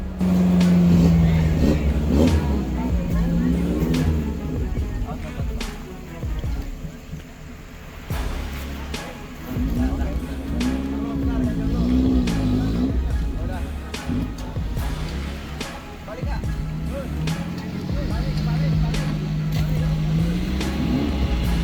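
Engines on two 4x4 off-road rigs rev and strain in rising and falling surges as they wrestle through thick mud under a midday sun, with a voice talking over the motors.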